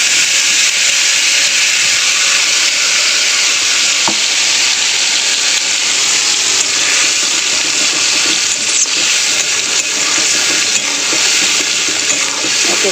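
Black cumin seeds are tempered in hot oil for a Bengali fish curry, giving a loud, steady, close sizzle with a bright, continuous hiss and occasional small crackles, and no one talking over it.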